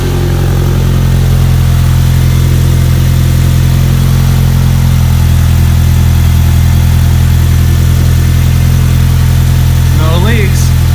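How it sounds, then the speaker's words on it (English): A 1991 Toyota MR2 Turbo sits idling with a loud, steady, even engine drone close up, and a brief rising sweep near the end. "Just let it idle for a little bit."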